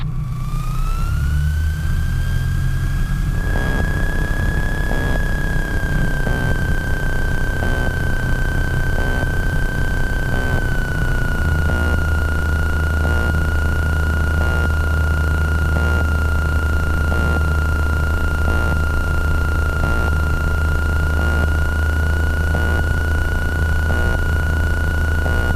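A light aircraft engine at full power during a short-field takeoff roll on runway 21 in the circuit: a steady, loud droning hum that climbs in pitch over the first seconds, then holds a constant tone throughout.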